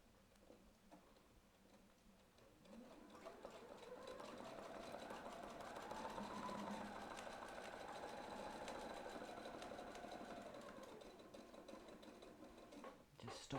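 A sewing machine stitches a 6 inch spiral in a steady rapid whir that swells louder through the middle and eases off toward the end, alone and fairly faint.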